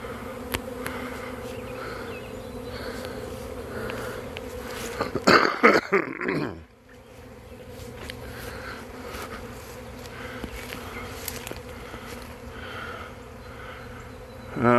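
A large honey bee swarm hums outdoors as a steady, dense buzz that carries through the whole stretch. A brief burst of close buzzing and rustling comes partway through, and then the softer background hum continues.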